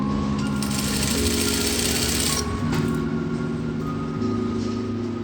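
Sewing machine running continuously while stitching down a seam on a langot, a steady mechanical whir with small shifts in pace, close and alone with no talking.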